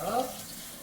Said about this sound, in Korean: 마늘 씻어주시고요